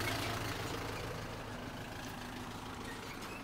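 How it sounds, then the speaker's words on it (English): A noisy truck passing near a deck by the shore, its low engine rumble loudest at first and then easing off into a steady drone, heard alone without talk. "So, noisy truck going by."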